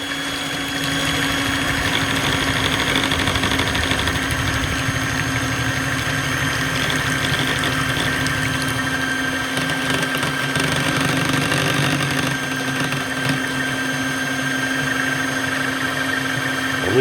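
Stand mixer running steadily on speed 1, beating a runny, failed mayonnaise with a continuous motor hum for the whole stretch, loud and close, with no talking.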